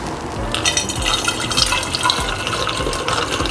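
Home-made water kefir, flavored with apricot, lemon and ginger, pours steadily into a bottle with a continuous close splashing and gurgling stream.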